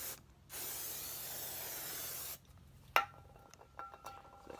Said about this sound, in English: let's just spray down the rotor now with some brake clean